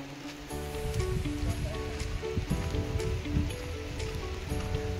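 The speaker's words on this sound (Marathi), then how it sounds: "एकदम मस्त जोरात पाऊस येतो बघा ह्या साईडून" Heavy rain pours steadily and densely near a shed beside a coastal creek, a loud, unbroken hiss of drops striking surfaces.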